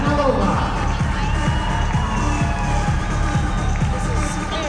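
A ballroom dance competition audience cheers and whoops for a finalist couple at the Ohio Star Ball in Battelle Hall. Loud crowd noise runs throughout, mixed with shouts and a steady rhythmic thumping beneath.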